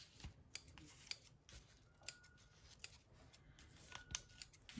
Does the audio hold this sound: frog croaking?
no